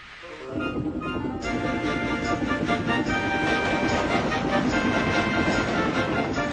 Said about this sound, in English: Gordon's wheels pounded the rails.